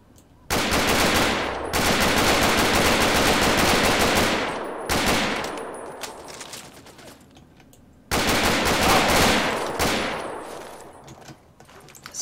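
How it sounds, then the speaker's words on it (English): Assault rifle gunfire in the video game Fallout 3, loud sustained automatic bursts lasting several seconds each, separated by short pauses and echoing tails. "And we need our assault rifle."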